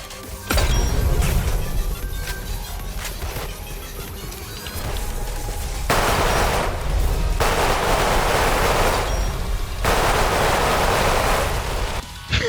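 Sniper rifle shots in the video game Weird Gun Game, loud booming blasts with rushing, crashing tails, one sharp report early and further heavy bursts later, over a dense roaring background.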